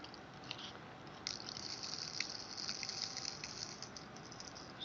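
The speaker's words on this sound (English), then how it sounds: "So in this way we can uniformly distribute the sand mass inside the shear box" Sand pours through a funnel into a shear box in a lab, making a faint, steady granular hiss and patter that lasts throughout.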